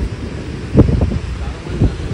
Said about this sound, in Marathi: वारा खूप आता वाढला आहे.